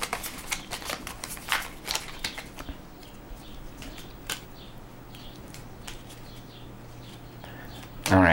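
Playing cards from a Pathfinder: Mummy's Mask deck riffle and shuffle in quick, papery bursts over the first few seconds, up close, then fade into a quiet tabletop room before a sharp knock at the end.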